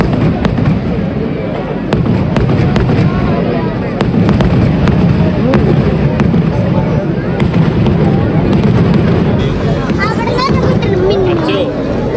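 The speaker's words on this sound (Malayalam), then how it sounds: "വെടിക്കെട്ട് തുടങ്ങിയിട്ടുണ്ട് അപ്പൊ നമുക്ക് അത് കാണാം" Fireworks at the Thrissur Pooram sample fireworks display crackle and pop continuously in dense, rapid bursts, loud and close, with crowd noise and speech mixed underneath.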